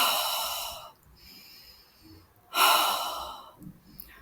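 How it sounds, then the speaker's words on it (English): Slow meditative breathing, one long audible inhale through the nose, a quiet pause, then another long breath, close to the mic with no talking. "you have inhaled from your nose and your stomach expands, and when you exhale, you let out all the breath from your body"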